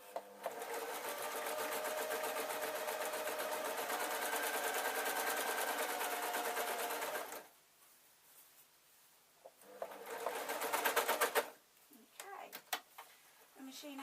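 A sewing machine stitches a fabric hem on a full circle skater shirt, running loud and steady for about seven seconds, then stopping before brief bursts of stitching return amid quieter handling sounds.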